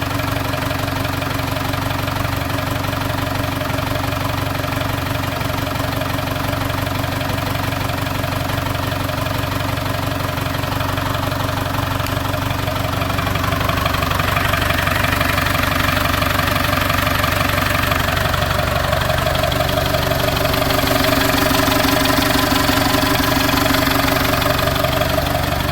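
A British classic barn-find car's engine runs steadily at idle, a continuous loud mid-low rumble with a faint knocking edge that grows slightly fuller partway through.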